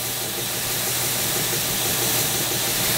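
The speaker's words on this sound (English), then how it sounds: "You could possibly do it with a belt sander, a handheld, but this stationary one makes short work of it." A stationary belt sander with a worn 100-grit belt grinds the metal of a lathe tool rest, a steady loud abrasive hiss over a low motor hum, continuous with no talking.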